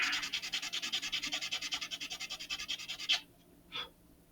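Steady back-and-forth sanding of a model rocket part, rapid and rhythmic strokes close by for about three seconds, then a pause and one more short rasp.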